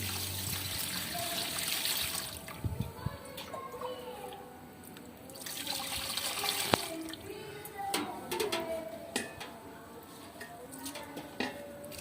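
Water trickles and splashes intermittently close by, with sloshing and small clinks as rice is rinsed in a basin.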